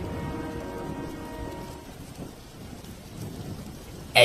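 Rain falls steadily with a low, rolling rumble of thunder underneath, fairly faint, ending with a sudden sharp noise.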